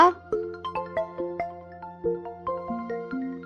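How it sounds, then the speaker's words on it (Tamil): A mobile phone rings with an incoming call from an unknown number, playing a bright electronic melody of stepped, sustained tones that repeat steadily and sound close and clear, with no talking over it. "அவனுக்கு ஃபோன் வருடி"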